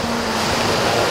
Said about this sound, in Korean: 아버지도 파도 소리 들리시죠?